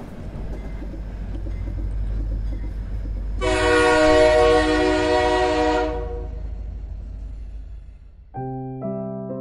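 A train running, with a steady low rumble of wheels on rails, a long loud horn blast in the middle, then a shorter horn toward the end, no voices.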